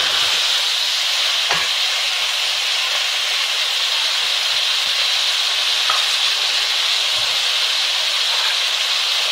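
Potatoes and cabbage frying in a pot for a mixed vegetable dish, giving a steady, dense sizzle and hiss throughout with a few faint clinks, no talking.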